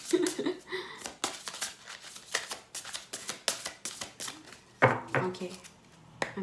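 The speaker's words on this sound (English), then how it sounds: "I'm wasting your time just shuffling the cards." A deck of tarot cards is shuffled by hand in repeated riffling bursts, crisp papery flutters and taps coming close and irregular, with soft talking in between.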